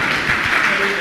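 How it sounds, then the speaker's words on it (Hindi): An audience claps in a broad, steady wash of applause that fills the whole moment at close range, with faint voices mixed underneath. "ताली तो बजाओ।"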